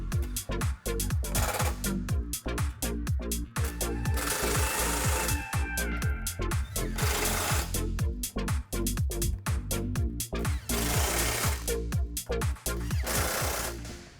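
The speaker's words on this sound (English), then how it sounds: "Go ahead and get them tightened up with an 8mm socket." A power tool with an 8mm socket tightening lock nuts on an aftermarket bumper for a Jeep Wrangler JL, heard as loud, close bursts of rapid hammering impacts with brief pauses between them.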